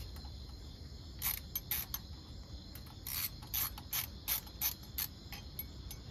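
Bursts of rapid clicking from a ratchet wrench loosening bolts on the carburetor of a 1977 Chevy, repeated in short strokes against a steady background hum, close and fairly quiet.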